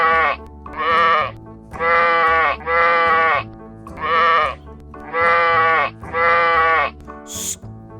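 Several people imitate sheep at a church Sunday school Christmas play, giving a run of about seven loud, drawn-out bleats in steady succession, with a short high sound near the end.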